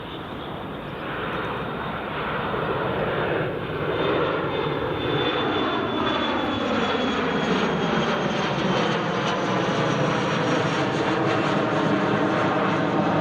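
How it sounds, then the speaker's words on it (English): Airliner on the Edinburgh to Southampton flight at Edinburgh Airport, its engine roar swelling and then holding loud and steady for over ten seconds, with a descending whine as it passes, no voices. "That's the Edinburgh to Southampton flight"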